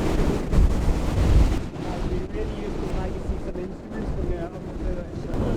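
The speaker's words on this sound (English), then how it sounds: "the wind had lifted and was gusting up into the high 20s" Strong wind gusting into the high 20s buffets the microphone on a sailboat in bumpy seas, with loud rushing and water sloshing throughout as people talk over it.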